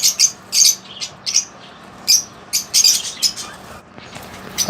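Chicks and birds in a home aviary give repeated shrill chirps and squawks in quick bursts, close and loud, with brief flutters between calls.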